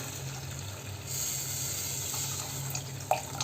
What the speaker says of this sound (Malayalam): ഈ സമയത്ത് നമുക്കിതിലേക്ക് നേരത്തെ നമ്മൾ തയ്യാറാക്കി വെച്ചിരിക്കുന്ന പുളിവെള്ളം ചേർത്ത് കൊടുക്കാം